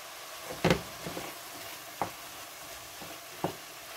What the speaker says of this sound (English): I'll mix that in nicely